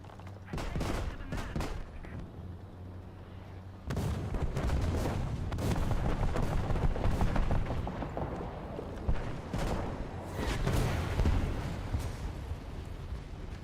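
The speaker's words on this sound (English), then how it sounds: "The PGZ-88, its guns are exceptionally loud." PGZ-88 anti-aircraft guns blaze away in War Thunder ground realistic battle, loud bursts of rapid fire that start sparse, then swell into a sustained, dense roar of shots with brief lulls, no talking.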